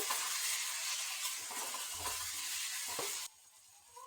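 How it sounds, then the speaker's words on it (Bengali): Masala stir-frying in oil for gutum fish curry, giving a close, continuous sizzle with light stirring for about three seconds before it cuts off to near quiet. "এটা ততক্ষণ কষিয়ে নিতে হবে যতক্ষণে না পুরো মশলাটা কষে যাচ্ছে আর তেল ছাড়তে শুরু করেছে"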